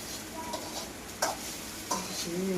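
Curry being stirred in a frying pan in a village home kitchen, a soft scraping of the spoon with two sharper clinks against the pan over a faint steady sizzle.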